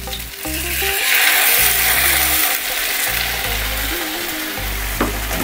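Masala-coated sea bream fries over a slow fire, giving a dense, continuous sizzle and crackle of oil up close, with a background hum pulsing on and off and a brief clatter near the end.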